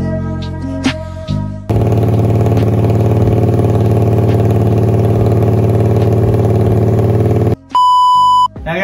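A Yamaha MX King motorcycle engine idles with a steady, throbbing mid-pitched drone that holds for several seconds, with brief tonal beeps and a cut-off before and after.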